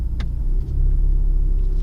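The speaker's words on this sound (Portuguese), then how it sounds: "A rotação do motor já sobe um pouco." A Renault Sandero RS idles in Sport mode with a steady low engine rumble whose level rises slightly partway through, close and continuous with no talking.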